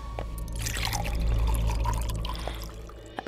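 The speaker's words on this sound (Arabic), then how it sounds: "عم صب لك المي" Water poured from a container in a domestic drama scene, a steady liquid splash and trickle filling something close by, running continuously for a few seconds with no talk over it.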